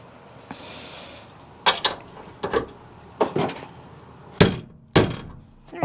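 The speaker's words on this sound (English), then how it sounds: "You can't be afraid to hammer that in, but it's better to use a mallet in my opinion" A mallet drives crossnuts into the metal body of a new van, giving a series of sharp, close thunks in uneven bursts, with quieter handling noise between strikes.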